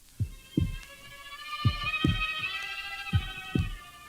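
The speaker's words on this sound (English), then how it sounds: "the heart beat on" A heartbeat effect on a spoken-word record of The Tell-Tale Heart thumps in slow double beats, three pairs, loud and close over a sustained eerie tone.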